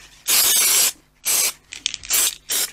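Adhesive sprayed onto fabric inside a carry cot: close, loud hissing aerosol bursts, a long one followed by several shorter ones, with faint rustling between them.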